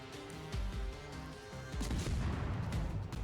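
Secondary guns of the battleship Gneisenau firing in the naval game World of Warships, a dense rumble of booming shots layered over each other, with heavier blasts near the middle and end.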